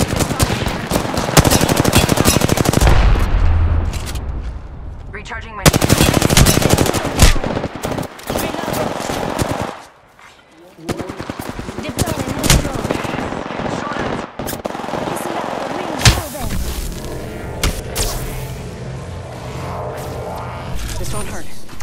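Rapid automatic gunfire from the video game Apex Legends rattles in dense, loud bursts with short pauses, mixed with game effects and a voice speaking over the action.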